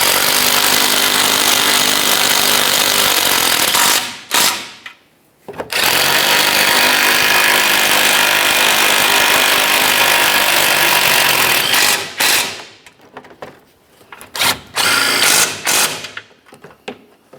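A power tool, likely an impact-style driver, snugs up front lower control arm bolts on a 2011-2020 Toyota Sienna, running loud in two long bursts and then several short rattling pulses separated by brief silences.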